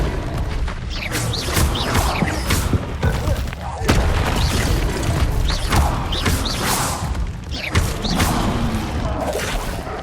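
The Incendio fire spell is cast in Hogwarts Legacy amid dense combat effects: repeated whooshing bursts, booms and crackling swells that play loud and continuous, with no pause.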